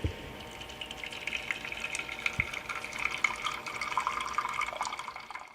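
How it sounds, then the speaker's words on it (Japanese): Boiling water poured straight from the kettle over blended roasted hojicha tea leaves, a continuous close splashing and trickling stream that swells and thins over a few seconds, with no voices. "今日の熱湯をそのまま注いで"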